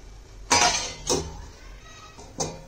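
A pot lid being set down on a pan of paneer masala, clanking sharply three times up close as the metal settles, with quiet between the hits and no one speaking.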